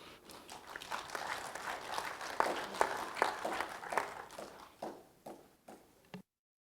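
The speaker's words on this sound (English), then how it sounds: "So please welcome Mr. Anthony with a big applause." Applause from a conference audience welcoming a guest speaker from the University of Dar es Salaam at an East African public procurement forum, a moderate round of scattered clapping that thins into a few last claps before stopping.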